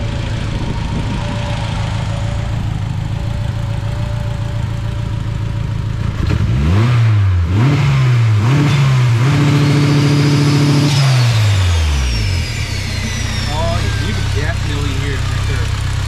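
A turbocharged Honda CRX with an H2B engine swap and a T51R mod idles steadily, then revs up in several quick bursts before a longer climb and drop, with a faint turbo whine over the rumble.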